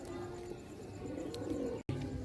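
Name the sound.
Teddy breeder pigeon cooing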